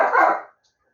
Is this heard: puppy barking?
yes